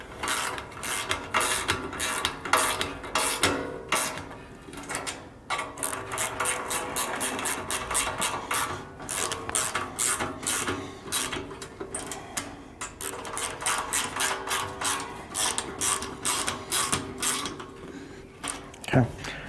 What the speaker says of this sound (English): I'll tighten up my load bar bolts first